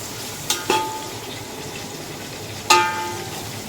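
Onions fry in hot oil for biryani, a steady soft sizzle running throughout with a few brief clinks of a utensil stirring the pan, and no talking.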